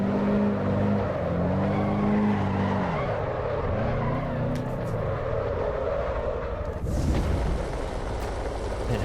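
A car drifts in the racing game Assetto Corsa EVO. A loud, steady engine drone rises and falls through the gears before a sharp tyre squeal breaks in near the end.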